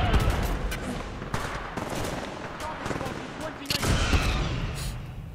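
Shotgun blasts in Titanfall 2: several heavy, sharp bursts fired at irregular intervals over busy game noise, with voices talking alongside.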